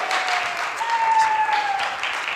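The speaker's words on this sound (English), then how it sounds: "Give her a round of applause" An audience gives a round of applause at an onstage conversation event, a short burst of clapping from many hands at close range, with a faint tonal whine in the background.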